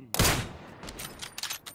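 Gunfire in the PUBG battle royale shooter: a loud burst of shots at the start, then a ragged run of fainter, more distant reports.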